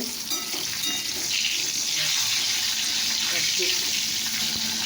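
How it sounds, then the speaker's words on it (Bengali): Food sizzles in a pan with a continuous close hiss of frying, joined by faint scraping and stirring sounds and no speech. "এখন এটা ভাজা হবে, একটু ভাজা ভাজা হবে।"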